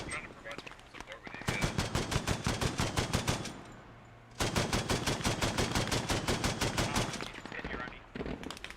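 Automatic gunfire in the Squad video game comes in two long, rapid, loud bursts of machine-gun fire, separated by a short lull, with faint background noise around them.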